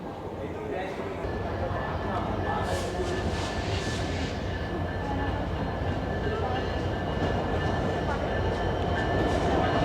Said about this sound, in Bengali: ট্রেন স্টেশনে প্রবেশ করছে